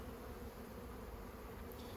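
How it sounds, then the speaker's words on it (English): A steady, dense buzz of honeybees gathered on the lid of a freshly installed hive, close and unbroken throughout, with nobody speaking. "Some bees hanging out on the lid here."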